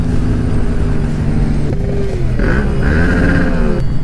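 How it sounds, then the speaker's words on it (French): A Ferrari sports car goes by on a street, its loud engine note holding steady before rising in pitch as it accelerates past, close and dominating the scene. "Oh, une Ferrari!"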